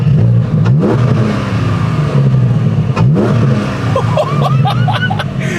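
A Porsche Cayman GT4 engine revs loudly and close, with two sharp rising blips about three seconds apart over a steady throaty drone, then a run of quicker staccato throttle stabs toward the end.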